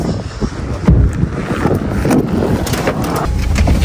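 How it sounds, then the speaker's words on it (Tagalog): Strong wind carrying snow in Greenland buffets the microphone with a constant roaring rush and gusty low rumbles, loud and close, with no voices. "Grabe pa rin yung lakas ng hangin at may kasamang snow."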